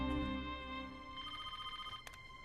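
A telephone rings indoors with a bright electronic warble, one long ring followed by shorter pulses, fairly faint with no talk over it.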